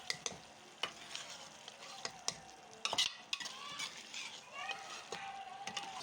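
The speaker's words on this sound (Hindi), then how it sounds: "हरी मिर्च मिक्स कर लेते हैं" Green chilies and fresh coriander are stirred into spicy potato slices in a frying pan, a soft steady sizzle broken by repeated sharp scrapes and taps of a spoon against the pan.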